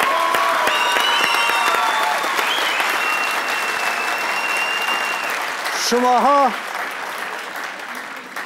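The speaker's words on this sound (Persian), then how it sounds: "همین کف زدن ها را زیاد کنیم برشان" A studio audience on the Afghan family game show Ro Dar Ro claps in a thick, steady burst, with a host's amplified voice speaking over the applause and a brief sung or cheered tone near the end.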